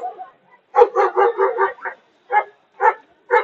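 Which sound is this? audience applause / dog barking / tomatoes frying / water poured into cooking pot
dog barking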